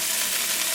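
French fries sizzling in a Cosori air fryer, a steady, loud, close hiss that holds evenly without a break.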